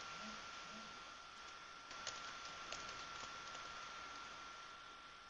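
Typing on a computer keyboard while working in a mind-mapping tool, heard as soft, scattered key taps over a steady hum with no talking.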